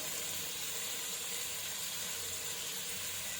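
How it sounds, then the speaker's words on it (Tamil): Onion, mint, coriander and curry leaves sautéing in a pan for vegetable biryani, a soft, steady sizzle and hiss heard close with no break. "வெங்காயம், புதினா, கொத்தமல்லி அதையும் சேர்த்து அது கூடவே போட்டு வதக்கிடுவோம்."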